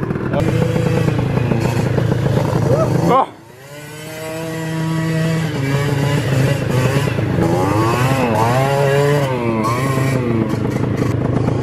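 A moped is ridden offroad through a forest. Its engine revs hard and close, bogs down abruptly to a low stutter, then slowly climbs back up and revs again with wavering pitch.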